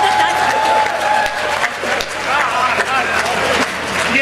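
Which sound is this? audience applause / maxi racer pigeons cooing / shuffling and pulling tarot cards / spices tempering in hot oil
audience applause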